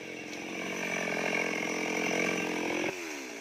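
A chainsaw cuts through the trunk of an old palmyra palm, roughly seventy years old, at a rural village. The engine holds a loud, steady whine under load, then drops abruptly near the end as the cut finishes.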